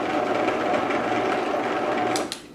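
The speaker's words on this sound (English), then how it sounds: "let's see if this grates cheese. I'm going to go on the low setting." Vitamix blender grating cheese on its low setting, a steady loud motor whir that runs for about two seconds and then cuts off, followed by a couple of brief clatters.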